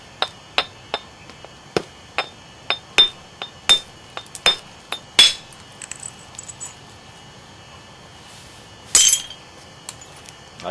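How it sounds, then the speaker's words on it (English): A stone biface is struck with a small bopper during percussion knapping: a quick series of about a dozen sharp, close clinks and taps, then a pause and one louder, brighter strike. "So I'm going to do that probably with this smaller bopper right here."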